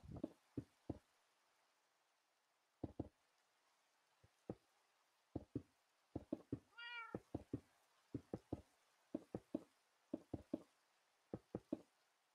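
A cat gives one short, faint meow midway through, surrounded by scattered quiet knocks and taps that come irregularly throughout.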